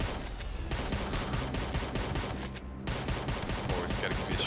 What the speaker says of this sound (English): Always gotta be a shotgun. The worst gun, in my opinion.